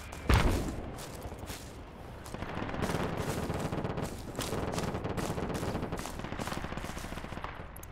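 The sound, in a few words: aircraft strafing with gunfire, from video game Project Reality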